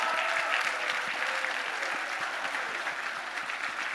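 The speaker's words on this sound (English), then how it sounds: "everyone's gonna give you a big round of applause" An audience at the 2023 Bernard Baruch Dinner gives a big round of applause, dense steady clapping from a large room that carries on for several seconds and gradually eases, with a faint rhythmic low thump underneath.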